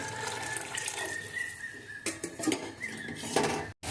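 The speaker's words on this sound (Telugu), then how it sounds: "పులుపు ఎక్కువ ఉంది అందుకే కొంచెం వాటర్ యాడ్ చేస్తున్నాను" Water is poured into a pot of tomato rasam cooking on a stove, a faint steady splashing and trickling with a few light metallic knocks of utensils near the end.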